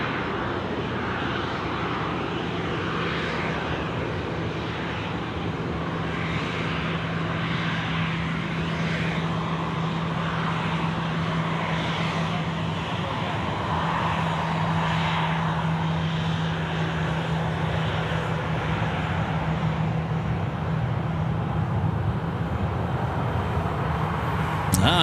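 An airliner at Sydney Airport powers down runway 34 left on its takeoff roll, a steady, loud engine roar with a low hum that holds for the whole stretch with no talk.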